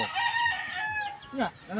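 A chicken calls up close, with drawn-out crowing notes and a few clucks, loud and clear over faint background noise.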